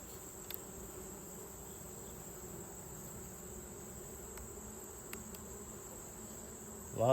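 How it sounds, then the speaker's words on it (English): A mass of honey bees hums steadily inside a hive box during late-summer colony work, a continuous close drone with a brief louder rustle near the end. "There's a lot of bees in there."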